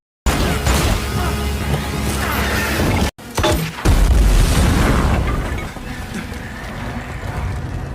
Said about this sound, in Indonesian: Drasa pun mengambil senjata peledak untuk membuat lubang besar, dan inilah yang terjadi